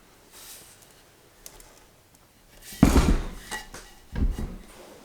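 A soft slip-cast clay pot pulled from a plaster mold: a few scraping knocks and dull thuds, one sharp clatter and a second smaller bump, close and otherwise quiet.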